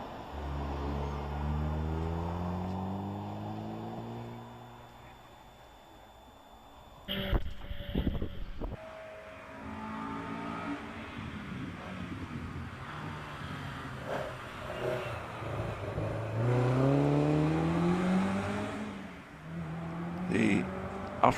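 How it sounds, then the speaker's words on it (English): An Alfa Romeo GT Junior 2-litre racing up the Prescott hillclimb. The engine revs rise and fall through the gears, at a distance and under steady commentary. "Terry Clifford in his Alfa Romeo GT Junior 2-litre machine goes around Pardon"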